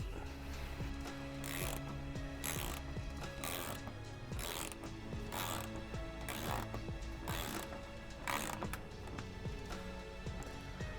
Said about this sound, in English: take your 10mm socket, start tightening these down